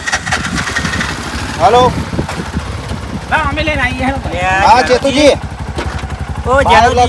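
A motorcycle engine starts and settles into a steady, close idling putter, running under loud voices.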